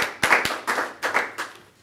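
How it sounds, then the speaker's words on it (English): Brief, scattered clapping from a small audience at an engineering lecture, a few separate bursts of hands that come and go over a couple of seconds, fairly quiet. "So let's just give him applause"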